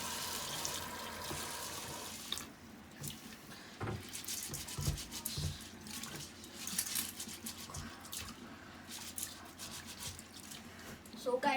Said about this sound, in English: You must wash your rice 3 times.